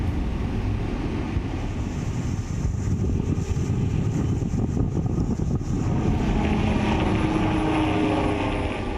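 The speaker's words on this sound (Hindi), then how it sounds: "हेलीकॉप्टर से निगरानी," A surveillance helicopter flies over a coastal area during Cyclone Tauktae, its steady low engine and rotor rumble continuous and fairly loud, mixed with wind buffeting on the microphone.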